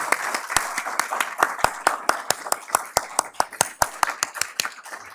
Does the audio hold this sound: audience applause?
yes